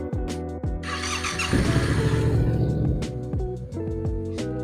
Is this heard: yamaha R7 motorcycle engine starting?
yes